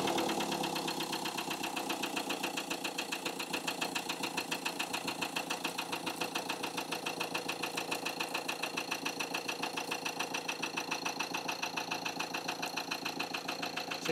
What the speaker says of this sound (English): So can we have the engine running?